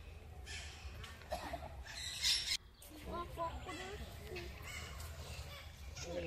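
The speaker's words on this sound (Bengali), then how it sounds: "পাখির আওয়াজ পাচ্ছ? এখানে অনেক রকমের পাখি আছে" Birds calling in Parmadan forest near Bongaon, with scattered chirps and caws at moderate distance mixed with steady insect buzz, while people talk nearby throughout.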